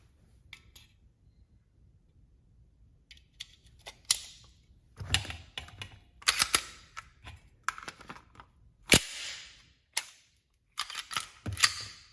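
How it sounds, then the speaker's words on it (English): The slide of an H&K VP9 pistol drops after a forceful magazine insertion, giving a sharp metallic clack among several close clicks and handling sounds in a quiet room, with no talk. "if you insert the magazine with some gusto, the slide will drop and rack around"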